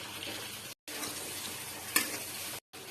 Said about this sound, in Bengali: এখন এটা নেড়ে ছেড়ে দিব মশলা।